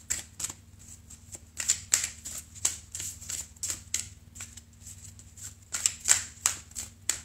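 Tarot cards being shuffled by hand, with a deck used for an oracle reading, produce repeated crisp riffling bursts in an irregular rhythm, close and moderately loud, with no voice over them.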